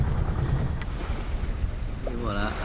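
Wind blows steadily around a sailboat leaving an anchorage off Corsica under a southerly breeze, a rushing hiss over low water noise, with a brief faint voice near the end.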